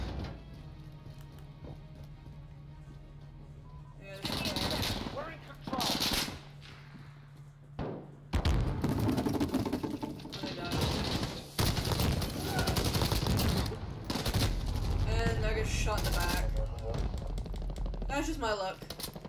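AUG rifle fire in a video game team deathmatch: loud bursts of automatic shots come in several clusters, separated by quieter stretches, with a person talking over parts of the action.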